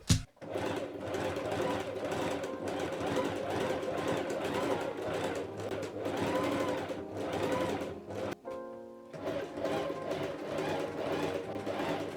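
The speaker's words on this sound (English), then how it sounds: "and then sew" A sewing machine stitches a whimsy fabric jacket with a steady, close, motor-driven whir that runs almost continuously, broken by one short pause near the end.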